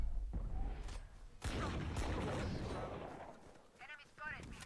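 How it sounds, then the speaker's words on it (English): Missile launch in the shooter game Valorant: a sharp blast rings out, then a second heavy boom follows about a second later and rolls into a long, dense roar of rumbling noise that slowly fades, with faint chirpy effects near the end. "Launching missile."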